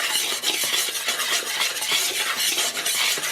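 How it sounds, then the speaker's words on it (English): A whisk stirring salt into gluten-free biscuit dry ingredients in a bowl, a fast continuous scratchy rhythm of wires brushing against the bowl, close and alone without talk. "I'm going to whisk this together"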